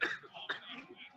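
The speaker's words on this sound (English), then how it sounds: "I got a cough." A single close, harsh cough with a second smaller burst midway, from a man at a live convention broadcast, standing alone without speech.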